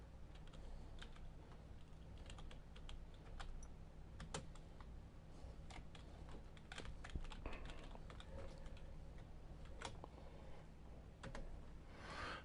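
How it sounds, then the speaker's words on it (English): Steady clatter of keys on a computer keyboard, close and fairly quiet, with irregular bursts of quick strokes and short pauses running throughout, over a low constant hum and with no talking. "Hold on, I'm reaching for my keyboard."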